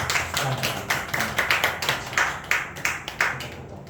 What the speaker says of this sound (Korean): 우리 아이들도 좀 박수 주세요